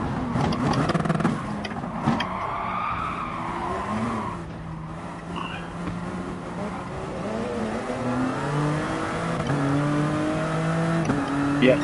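A race car in a racing video game brakes hard with tire squeal, then accelerates, the engine note rising and falling in sweeping pitch changes over a continuous loud roar, with a voice talking over it.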